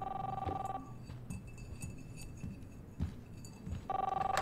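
Telephone ringing in the video game Life is Strange, a steady electronic ring tone that sounds at the start and again near the end, with quieter game ambience and a few soft knocks in the gap between.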